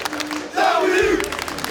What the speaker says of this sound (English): the crowd absolutely losing their minds